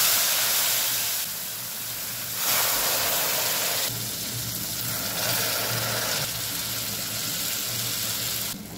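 Hot water poured into roasted semolina (rava) in a pan on a lowered gas flame: loud bursts of hissing steam and sizzle come in waves as the water goes in, close, with no talk.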